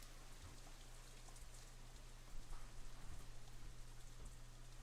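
Steady rain falls throughout a scene from the visual novel Katawa Shoujo, a dense even hiss of drops with a soft low hum beneath and slightly heavier patter in the second half, with no voices.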